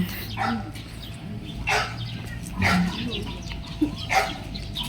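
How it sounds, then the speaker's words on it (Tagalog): A dog barks in short, sharp bursts every second or so, fairly close, with low background noise. "Nagagalit yung aso. Nagagalit siya."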